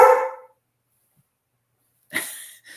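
A dog gives two sharp, loud barks, one at the start and another after about two seconds of silence. Both are close, with no talking.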